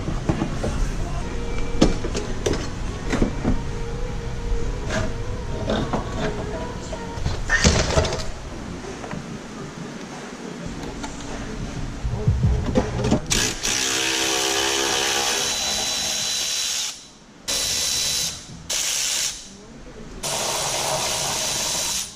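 A power tool whirs and ratchets in a garage while the front bumper comes off a Mitsubishi 3000GT VR4 twin turbo, with loud sustained runs broken by short pauses, close by, mixed with clunks and handling noise.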